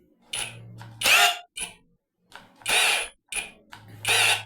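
An Oraimo Maxdrill cordless drill in hammer mode runs in short, harsh bursts of rattling whine with pauses between them, heard close with no talking.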